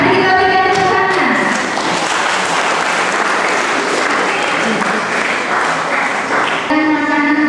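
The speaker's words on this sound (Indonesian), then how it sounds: "Mari kita berikan tepuk tangan." Guests at an Indonesian wedding in Loa Janan Ilir break into loud, dense applause that fills most of the stretch, with tonal music or singing heard at the start and end.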